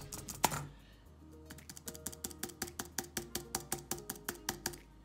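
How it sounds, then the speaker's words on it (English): Keys pressed on an aluminium Apple Magic Keyboard with numeric keypad give a steady run of about fifteen crisp, quiet clicks in an even rhythm, close up, after one louder tap at the start. "when I press the same button on my Magic Keyboard"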